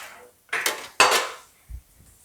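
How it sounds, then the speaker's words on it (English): A metal car body panel is stretched during bodywork and pops with oil-canning sounds: two sharp metallic clanks close together, loud and ringing, then a low dull thump. "Now that oil can sound you're hearing is me stretching this area."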